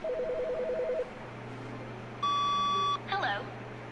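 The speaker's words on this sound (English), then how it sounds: "It's a phone ringing." A ringing telephone in the video game The Stanley Parable: a sustained electronic tone of a bit under a second stands out clearly over a low background hum, following earlier warbling beeps and followed by a brief trilling burst.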